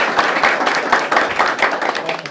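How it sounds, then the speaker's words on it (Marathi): An audience claps loudly and steadily at a village campaign stop during assembly election touring, a dense crowd applause that continues without a break. "आपण जोरदार टाळ्या आपल्या सर्वांसाठी वाजवूया"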